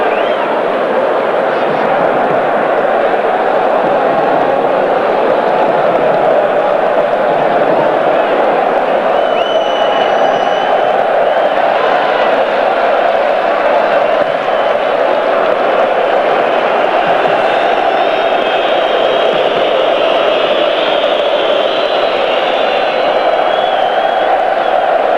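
Capacity stadium crowd at Parken Stadium in Copenhagen during a 1998 World Cup qualifier, Denmark against Croatia, a steady dense roar of cheering and whooping that holds for the whole stretch, loud and continuous with no distinct talk.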